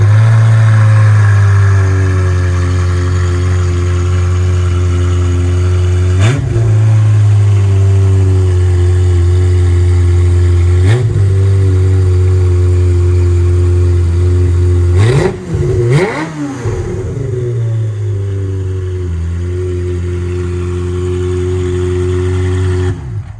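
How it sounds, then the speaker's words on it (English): A Ferrari F355 engine idles loud and steady with a deep, even drone, broken by several short throttle blips and a brief rev cluster near the end as the car is pulled out. "So let's pull the car out right now."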